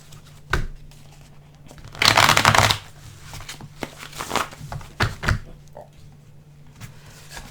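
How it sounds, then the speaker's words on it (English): A deck of cards is riffled in one loud burst, followed by scattered taps, slaps and crinkles as the cards are handled. "let's shuffle these again."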